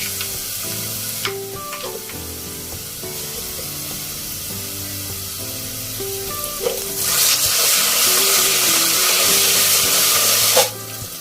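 Onions fry in a pan for a home-style rajma curry with dried meat, giving a steady sizzle that swells louder partway through, with clinks and scraping from stirring and background tones.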